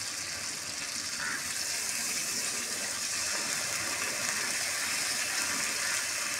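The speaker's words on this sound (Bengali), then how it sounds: "মাছটা দিয়ে একটু নেড়ে চেড়ে এবার আমি জল ঢেলে দেবো।" Water poured into a pan of Bhola fish curry (trout barb), a steady broadband gush of liquid filling the pan, continuous and fairly loud for several seconds with no talk.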